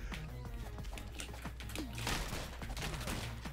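Rapid gunfire from the video game Rounds, a dense run of sharp shot bursts close and loud with brief pauses, mixed with game effects and a low background hum.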